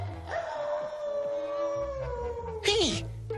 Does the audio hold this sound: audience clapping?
no